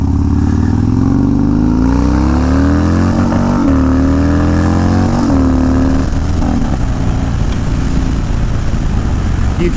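Harley-Davidson Dyna heavy cruiser motorcycle engine revving during a wheelie, loud and close with uneven throttle swells and dips, rising and falling pitch, and mechanical clatter over a steady rumble.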